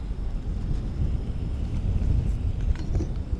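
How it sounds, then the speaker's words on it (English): Steady low wind roar buffets the microphone outdoors beside a camp stove with a mini griddle, a continuous rumbling gust with no talk over it. "The wind isn't helping at all."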